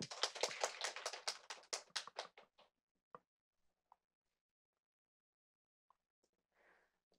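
A small audience claps to welcome a speaker at a Korean conference of the UNESCO Global Network of Learning Cities. There are a couple of seconds of brisk, close applause, then it thins to a few last claps and quiet.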